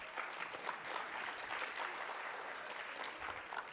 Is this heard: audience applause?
yes